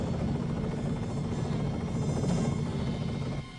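Steady helicopter rotor drone with a low chopping rumble, loud and close, holding for several seconds before easing slightly at the end, with no talk over it.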